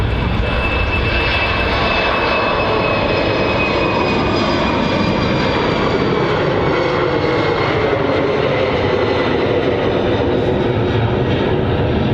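A KLM airliner taking off at Manchester Airport gives a loud, sustained jet engine roar that holds steady throughout, with a faint high whine above the broad rumble.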